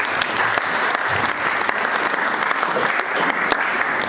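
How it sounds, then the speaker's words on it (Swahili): A church congregation bursts into steady, dense applause during a worship service, many hands clapping together loudly and continuously throughout with no voices standing out. "Makofi kwa Bwana"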